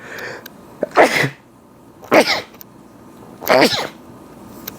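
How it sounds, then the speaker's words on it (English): Three sharp sneezes in a row, each a short explosive burst spaced about a second apart, close and loud. "I need to sneeze, oh no"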